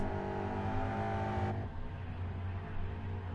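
A GT3 race car at Bathurst in a racing video game drones at full throttle, then the engine note drops abruptly as the driver lifts off, settling into a lower, rougher hum.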